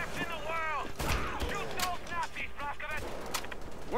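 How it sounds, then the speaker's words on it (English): In the video game Wolfenstein: The Old Blood, shotgun blasts go off as several heavy booms mixed with mechanical clatter amid busy in-game action, with a voice talking over them. "Switch over to the shotgun"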